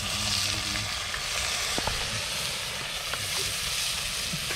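Kangkong (water spinach) sizzles loudly as it is added to a hot pan, a steady broadband frying hiss with scattered pops and crackles throughout, close by, with no talking.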